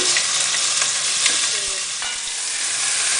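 Meat sizzles loudly and continuously in about a tablespoon of hot olive oil in a pot, a dense bright hiss with a few small pops, close and with no talk, while cooking seswaa from Botswana.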